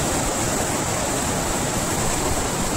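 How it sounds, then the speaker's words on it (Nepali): A swollen mountain stream rushes in heavy rain, a loud, steady, dense roar of churning water with no break or pause, close and filling everything. "यो पहाडको खोलाहरू हो।"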